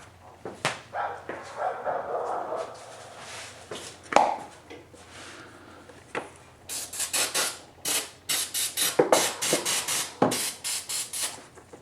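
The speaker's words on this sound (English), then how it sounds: "I gotta spray some in there, just try to make sure that that's good and clean." Degreaser sprayed into the engine of a 2007-2011 Jeep Wrangler JK 3.8L during crankshaft seal work, short hissing spray bursts, sparse at first then a rapid run of repeated sprays, with handling noises between.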